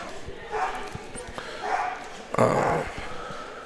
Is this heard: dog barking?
yes